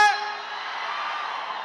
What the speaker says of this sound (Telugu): థియేటర్లో ఈ అరుపుల కోసం వెయిటింగ్